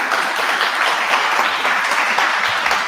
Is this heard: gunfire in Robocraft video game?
no